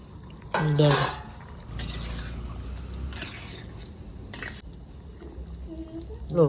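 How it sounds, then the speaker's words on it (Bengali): Chicken pieces for a tikka masala curry tipped into a cooking pan, a series of clanks and wet, squishy thuds against the metal, with a few scrapes, close and moderately loud. "চিকেনগুলো ঢেলে দিচ্ছি"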